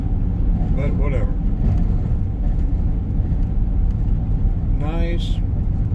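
A car cruising along winter back roads in Georgia, a steady low engine and road rumble holding throughout, with brief speech-like bursts over it.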